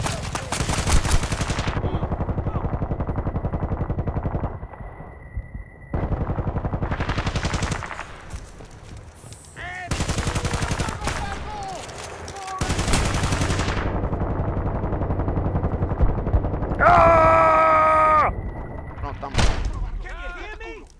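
Gunfire in the Battlefield Bad Company 2 campaign on Xbox One, with loud bursts of automatic fire and shotgun blasts separated by short gaps, and some electronic tones from the game near the end.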